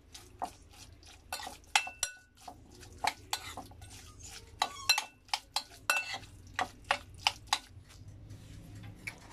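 A spoon stirs a sandwich filling seasoned with black pepper, salt and olive oil in a bowl, giving a string of close, sharp scraping clinks at an irregular pace with no one speaking.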